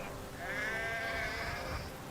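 A single sheep bleats close by, a wavering drawn-out call over a low background murmur, with no talking.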